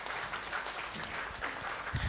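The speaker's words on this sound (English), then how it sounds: "Let's give them a round of applause." Audience applause at a menopause policy conference, a moderate, even wash of clapping lasting the whole moment, somewhat distant and soft.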